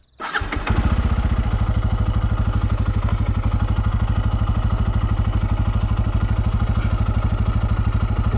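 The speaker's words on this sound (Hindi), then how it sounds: "अब मैं इसको ऑन करूँगा बाइक को।" A Bajaj Pulsar N250 motorcycle engine cranks and fires up, then settles into a steady, loud, close idle with an even rhythmic throb that continues for several seconds.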